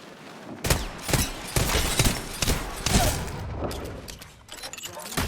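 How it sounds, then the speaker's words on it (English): Gunfire in the video game Apex Legends, with rapid repeated shots and bursts that are loud and close, coming in clusters across the whole stretch alongside other game noise. "They're shooting at me."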